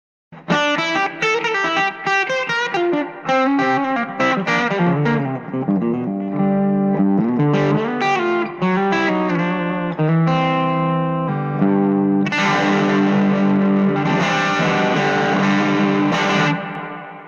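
Electric guitar through a tube amplifier with a warm, overdriven tone, playing chords and melodic runs, loud and close throughout with no talking.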